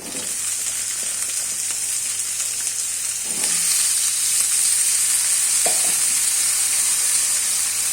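Potatoes and onions fry together in a pan with a loud, steady sizzle and hiss, close by, with a few stirring scrapes breaking through and no talking.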